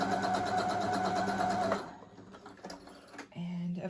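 A beginner sewing machine stitches through plain cotton poly blend fabric in a steady whirring run for about two seconds, then stops, leaving quieter handling clicks and a low hum.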